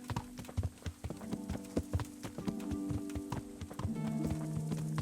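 Horse hooves clip-clop in the medieval video game Kingdom Come Deliverance, a quick irregular run of close, crisp hoof knocks over a low tonal game soundscape, with a brief whinny-like sound and no speech.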